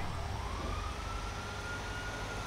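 A stolen fire truck in GTA 5 sounds its siren, a wailing tone rising and sweeping over a loud rumbling engine and road noise, continuous and close.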